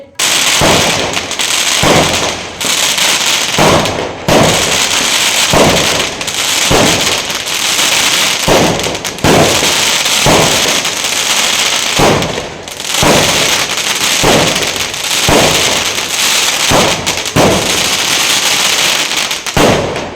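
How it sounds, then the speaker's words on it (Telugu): Firecrackers burst loudly in rapid crackling volleys, broken by brief pauses, continuing throughout. "మీరు టపాసులు కాల్చేయి."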